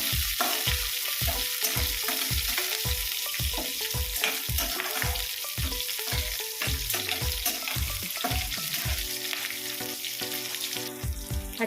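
Green chilies frying in oil in a pan for poha, a loud continuous sizzle punctuated by rapid rhythmic spoon-against-pan knocks that shift into a tonal ringing scrape toward the end.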